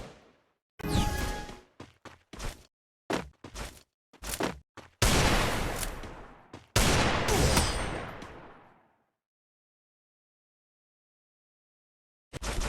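Desert Eagle shots ring out in a video game versus-match shootout, a string of sharp, loud bangs in uneven bursts, some single and some clustered, then a longer rolling volley that fades into silence before one last shot.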